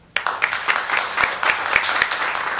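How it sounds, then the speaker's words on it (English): Applause from a conference crowd gathered in Des Moines, a sustained wash of many hands clapping at close range, steady and fairly loud throughout without any speech over it. "Alex is clapping for all these, I think."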